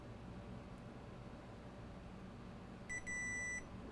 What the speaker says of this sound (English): Let's do some measurements in continuity mode.